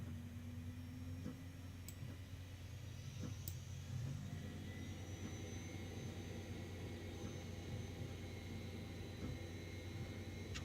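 Boeing 767 jet engines run at takeoff thrust in X-Plane, a steady broadband roar with a low hum and faint high whine, constant for about ten seconds and fairly quiet overall with no talking.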